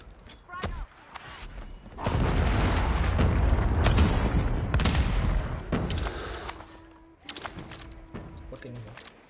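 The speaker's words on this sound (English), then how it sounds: "Be advised, hostile predator missile inbound." An incoming predator missile strike in Call of Duty Mobile during a LAN esports tournament: a few sharp shots, then a long, loud rumbling blast lasting several seconds that fades into scattered gunfire and faint game tones.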